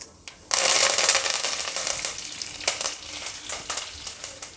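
Mustard seeds, urad and chana dal and curry leaves drop into hot oil for a traditional rice upma, bursting into a loud, sudden sizzle that crackles and spits steadily with a few sharp pops, close up and without speech.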